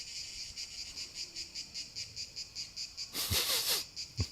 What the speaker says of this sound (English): that's why that the cicadas, they are freaking out